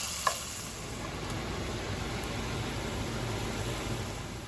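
Three cloves of garlic sizzle in a skillet for spicy vodka rigatoni, a steady close hiss of frying oil with one sharp clink of a utensil near the start.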